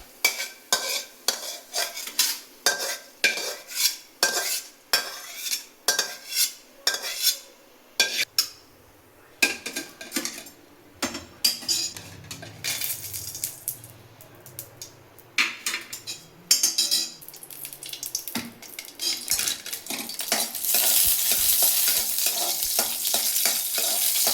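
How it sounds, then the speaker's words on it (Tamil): Ingredients for a pepper-tomato chutney are stirred and roasted in a pan, with repeated close scraping strokes of a utensil, then a continuous frying sizzle that swells toward the end. "நார்மலாக வறுத்தாச்சு இந்த இந்த அளவுக்கு தான் வறுக்கணும்"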